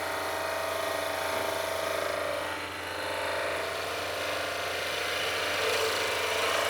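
A skew chisel cuts wood on a lathe with too much bevel pressure, producing a continuous loud grinding, buzzing scrape over the steady hum of the spinning machine, with a brief dip partway through.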